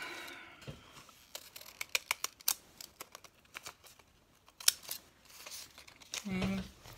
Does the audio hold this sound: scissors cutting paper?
yes